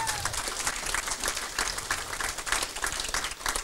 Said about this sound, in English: give Frank a round of applause